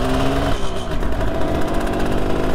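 A 1973 Kawasaki S2A 350 triple motorcycle rides through its gears, the engine note rising and then dropping at a shift about half a second in, before it carries on at a steady, loud buzz.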